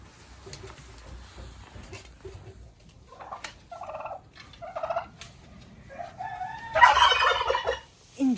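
Turkeys kept with chickens in a backyard poultry yard gobble in several loud bursts, with a strong rolling call near the end over a low background rumble.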